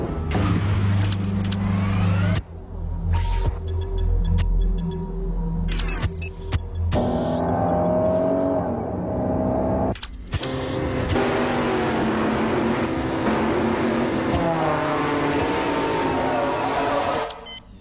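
A Honda Accord features in a 1993 TV commercial, with a continuous car-interior soundscape, electric window whirs and engine revving under a music bed, cut into several abrupt scene changes across nearly eighteen seconds.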